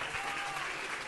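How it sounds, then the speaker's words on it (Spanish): Audience applause for a young music student finishing her first year, a brief, steady wash of clapping heard at a moderate distance with no voices on top. "Aplausos"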